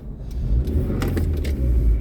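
A 1997 Suzuki Baleno 1.6 GLX saloon pulls out of a roundabout, its engine a steady low drone from inside the cabin with a few faint clicks and rattles over the top.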